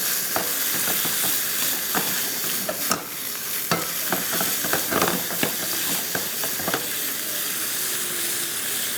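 Julienned chicken breast frying in a pan, a constant close sizzle and hiss with scattered light clicks of a stirring utensil throughout, no talk.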